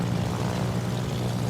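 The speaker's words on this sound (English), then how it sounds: "the Aki plays his ace, launching his planes whilst both ships are reloading" Carrier-launched aircraft from the Japanese carrier Aki in World of Warships give off a low, steady propeller drone, moderately distant and unbroken throughout.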